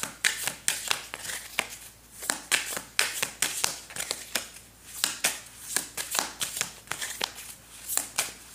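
Oracle cards shuffled for a reading, a quick run of crisp riffling slaps and flutters repeating in close bursts, near and alone with no talk.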